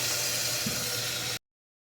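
Water pours into a curry pot for a cauliflower, potato and pea curry as a steady, close rushing hiss lasting just over a second before it stops abruptly.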